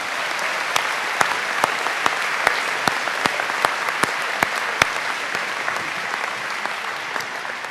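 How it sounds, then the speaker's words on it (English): A round of applause for students at a school Founder's Day program, a large audience clapping steadily for several seconds with distinct sharp claps popping out of the dense, even wash. "If we could give one more round of applause to all of our students"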